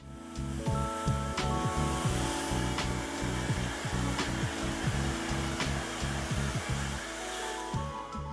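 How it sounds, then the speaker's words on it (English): A hair dryer blows steadily and loud up close while drying hair for a silk press, its whine shifting in pitch as the airflow changes, with brushing and rubbing sounds layered over it and no talking. "so blow drying is done"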